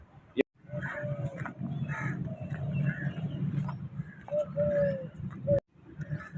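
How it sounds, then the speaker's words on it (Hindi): Birds call and coo in a park, pigeon-like cooing and chirps sounding close and repeated over a murmur of background voices, with a couple of sharp clicks. "ये देखें जी, परिंदों का माशाल्लाह कैसा ज़बरदस्त आवाज़ें हैं"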